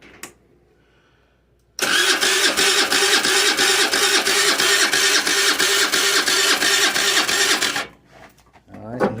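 A GY6 scooter engine cranks steadily for about six seconds after carb cleaner goes into the carburetor, a loud, even, rapid whirring chug with regular pulses, then cuts off, leaving quiet room sound.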